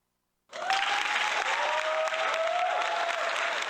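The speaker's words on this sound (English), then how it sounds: "Listen to the applause, I tell you." Applause from an audience starts abruptly after a brief silence and holds steady as a dense, continuous patter of many hands, with a faint whistling tone running through it.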